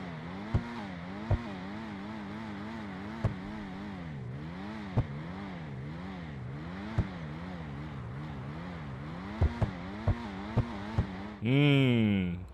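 A car engine in the video game GTA 5 Online revs up and down in repeated waves, punctuated by sharp periodic clicks, then ends in a sudden loud roaring burst.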